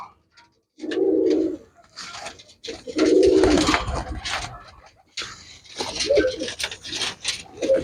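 Pigeons of a fancy breed kept by a fancier coo in a few low, rounded bursts, close by, with someone talking over and between the calls.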